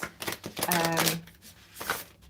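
Cards are riffled and shuffled in quick rustling, clicking bursts over about two seconds. A voice talks over part of the shuffling.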